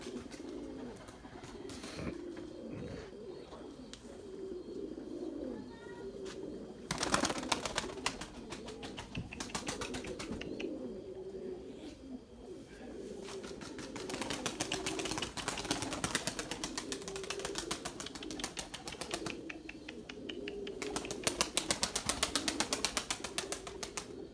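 Cooing pigeons murmur steadily in the background of a breeding loft, broken by several loud bursts of flapping wings as birds take off and land, with no voices heard.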